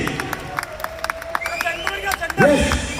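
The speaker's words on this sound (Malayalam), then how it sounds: "ഒരു കയ്യടി ഒന്ന് കയ്യടിക്ക് പ്ലീസ് ഒന്ന് കയ്യടിക്ക്" Scattered audience clapping at a Kerala state Champion of Champions competition, a loose patter of hand claps under an announcer's amplified voice, with a louder crowd swell near the end.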